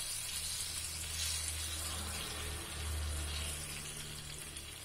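A carrot and dosa batter uttapam sizzling steadily on a hot pan, a continuous close, hissing fry with no talk.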